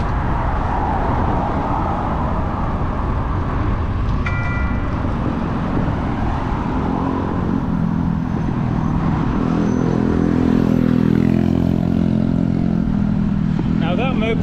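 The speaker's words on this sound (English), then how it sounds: "Now that moped just went past in the road" A moped passes along a city street during a ride through Almaty, its engine rising and swelling near the end over steady traffic rumble.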